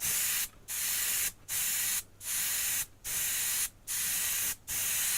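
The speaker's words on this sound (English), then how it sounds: "my pressure on the airbrush is just a little bit high" Airbrush spraying material from a Precision Ice and Snow kit at slightly high pressure: six sharp, close hissing bursts of under a second each, separated by brief silent gaps in an even rhythm.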